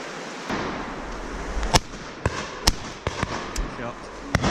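Shotguns fire at a pheasant shoot, several sharp distant cracks spaced irregularly over a few seconds, with people talking outdoors in between.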